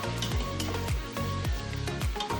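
Onions and tomatoes sizzle in a hot pan while being stirred, the frying hiss broken by regular scraping sweeps of a spoon, close and moderately loud, without talking.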